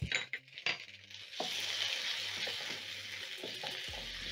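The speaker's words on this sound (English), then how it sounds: "Toss the tomatoes and tomato paste into the fragrant onions." Tomatoes and tomato paste sizzle as they hit fragrant fried onions in a pan, a steady close frying hiss with a few clinks and stirring scrapes at the start.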